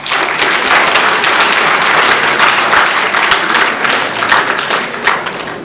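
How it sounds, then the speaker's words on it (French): A ceremony audience applauds steadily and loudly throughout, dense clapping filling the room with a few stray thuds and no talk. "Applaudissez."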